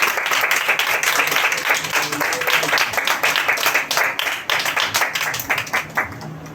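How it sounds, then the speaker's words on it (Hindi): A church congregation breaks into loud, sustained clapping in welcome, dense overlapping hand claps filling the room at a steady level throughout. "आइए तो हम सभी जन हम परमेश्वर यीशु मसीह का हम स्वागत करेंगे जोरदार ताली बजाकर"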